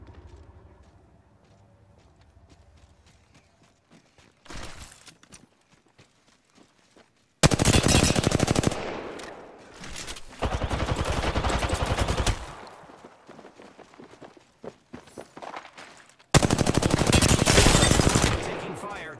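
Automatic and rapid gunfire in the shooter game Apex Legends, loud bursts of sustained shots broken by quieter gaps with faint movement and distant fire.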